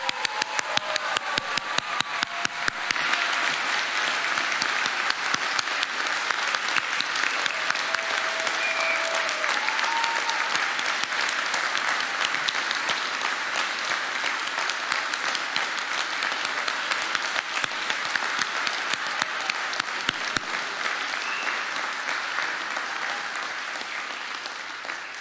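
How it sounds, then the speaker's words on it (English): Sustained applause from a large crowd at a graduation commencement, steady and dense clapping that continues for the whole stretch, tapering slightly toward the end. "Round of applause for you."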